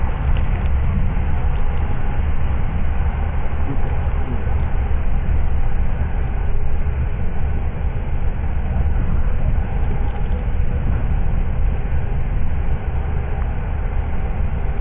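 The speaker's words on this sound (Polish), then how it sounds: "Jest Marcin w pociągu, jest Marcin w pociągu" Steady low rumble and rattle of a moving train heard from inside the carriage, continuous and fairly loud throughout, with no talking.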